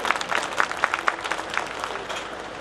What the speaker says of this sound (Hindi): ताली तो कुछ लोगों ने बजाया यहां पर रिवाज नहीं है,